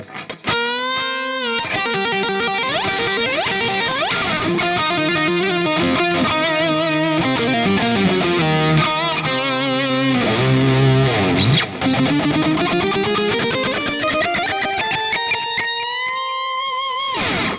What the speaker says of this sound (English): And that octave down lead sounds like this.